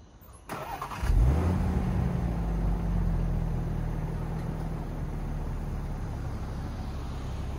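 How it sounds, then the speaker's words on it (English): A Range Rover lowers into off-road height: after a click, a steady low mechanical hum of the air suspension compressor starts and runs continuously, moderately loud and close. "So first, let's put it in off-road height."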